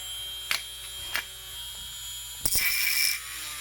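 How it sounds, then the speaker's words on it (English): TACKLIFE RTH30DC 4-volt cordless rotary tool cutting on its low setting: a thin, steady high-pitched motor whine close by, with a few sharp clicks and a short rougher grinding burst near the end. "Let's see how it does with cutting on the low setting."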